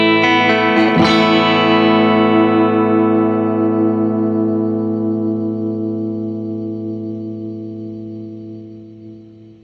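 A distorted electric guitar chord run through a noise gate pedal, compared against a cheap Rowin noise gate, rings out loud and sustained after a sharp attack, then slowly decays over about nine seconds with no abrupt cutoff.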